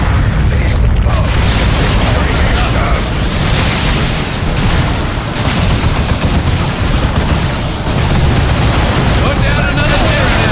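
Bomb blast in the strategy video game Dawn of War II Retribution, Imperial Guard campaign, heard as a continuous loud, dense roar of explosions and gunfire rumbling for about ten seconds without pause.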